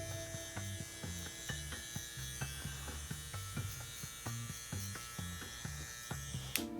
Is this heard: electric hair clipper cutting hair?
yes